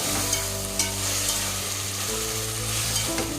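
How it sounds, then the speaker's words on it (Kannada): Ground masala frying in a pan for vegetable masala bath, a loud constant sizzle with a few light scraping knocks of stirring over a low steady hum. "ಮಸಾಲೆ ಹಸಿ ವಾಸನೆ ಹೋಗಬೇಕು, ಅಲ್ಲಿ ತನಕ ಫ್ರೈ ಮಾಡ್ಕೋಬೇಕು"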